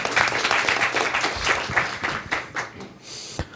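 Warm applause from a seminar audience at a Taipei book launch panel, steady dense clapping throughout that tapers slightly near the end, with no talking over it.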